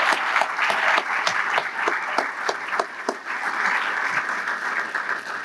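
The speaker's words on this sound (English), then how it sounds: "Let's give our Future Kings another round of applause." Steady applause from an audience of about 250 people at a scholarship gala, with dense, continuous clapping filling the room for several seconds.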